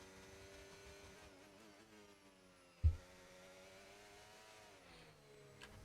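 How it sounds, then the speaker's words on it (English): Formula 1 car engines in the F1 25 racing game at Singapore, a steady high-pitched whine rising and falling with gear changes, another car close behind, with one sharp thump midway. "We've got a fast car behind us"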